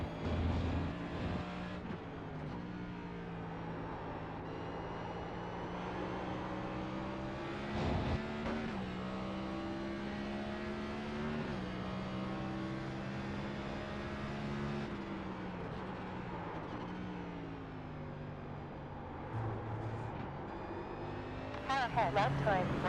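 NASCAR race car engines drone and shift gears in the iRacing video game at Watkins Glen, steady and loud, with a voice talking over the engine noise.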